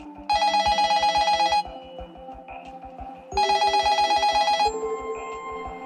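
A mobile phone rings loudly and close, two long bursts of a bright electronic ringtone separated by a short gap, over a steady pulsing beat with no talking.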